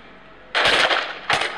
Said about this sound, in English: There goes the first shot, so the assault team are able to fire that gas gun and then go for the breaching door.